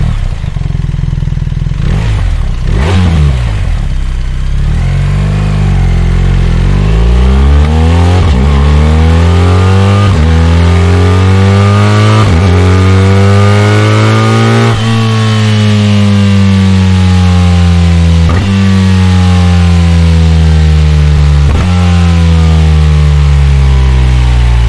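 A BMW R1250 RS boxer motorcycle engine revs repeatedly, each blip rising in pitch then settling, with a steady idle rumble between about eight bursts. Close and loud, no voices.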